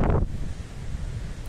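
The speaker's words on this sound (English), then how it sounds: "It's super noisy because it's so windy." Strong wind roars across the microphone at a sailing club by the sea on a cold, rainy day, a steady low rumble that continues without pause and with no voices.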